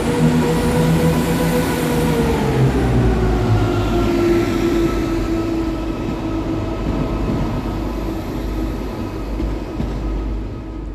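A Northern train arrives at Hull Paragon railway station, its engine rumble and wheel noise steady and moderately loud, with falling tones as it slows.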